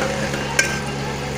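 Pumpkin halwa being stirred in a pan, a steady soft scraping and sizzling texture with one brief clink of the spoon against the pan.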